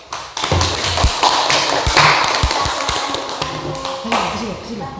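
Classroom applause for a student's presentation, a scattered burst of clapping with taps and thuds under lingering children's voices, fairly close and moderately loud throughout.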